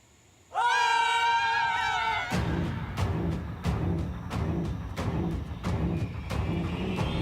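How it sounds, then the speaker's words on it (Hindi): Several people scream together in fright in a scene from a Hindi TV drama. The loud, wavering cries are followed by rhythmic pounding thuds, like running footsteps or banging, that continue to the end. "अभी तुम लोग चिल्लाए थे।"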